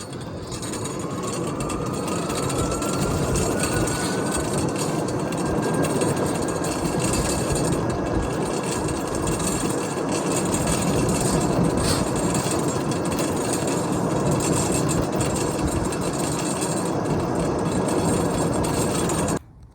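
A golf cart converted to a 48V lithium battery drives along, giving a steady, loud whirring motor whine with rolling noise that holds constant for the whole stretch before cutting off abruptly at the end.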